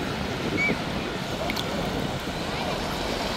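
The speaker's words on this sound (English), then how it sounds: "The waves are forming." Steady rushing surf and wind noise at Kenyatta Beach, Mombasa, waves washing continuously nearby with gusts buffeting the microphone.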